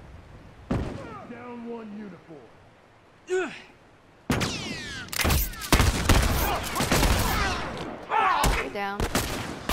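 Rifle gunfire in The Last of Us multiplayer, several sharp loud shots in quick succession, with rapid bursts in the second half, mixed with in-game voices calling out.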